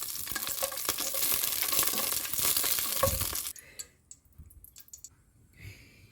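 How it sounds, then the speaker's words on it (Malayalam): Cashew nuts and raisins sizzle loudly in hot ghee for about three seconds with stirring clinks, then the frying drops away to quiet, scattered scraping and soft bubbling. "ചൂടായ നെയ്യിൽ കാഷ്യൂനട്ട് കിസ്മിസും കൂടി നമുക്കൊന്ന് വറുത്തെടുക്കാം"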